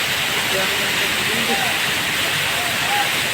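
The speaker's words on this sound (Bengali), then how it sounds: "শুরু হলো বৃষ্টি" Rain beginning to fall on a rooftop after hot weather, with rainwater flowing off the roof: a steady, dense hiss of water that stays even throughout, with faint voices in the background.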